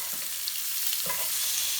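Salmon fillet frying in a pan while foamy garlic butter is spooned over the flesh, giving a steady close sizzle with faint scraping of the spoon and no talking.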